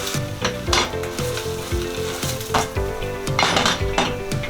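Dutch pancake sizzling loudly and steadily in a hot pan just after being flipped, with a continuous frying hiss and a few soft clinks of utensils against the pan.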